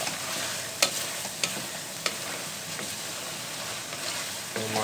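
Spices for chicken karahi fry and get stirred in a pan, a steady sizzle with several sharp scraping strokes of the spoon against the pan at intervals.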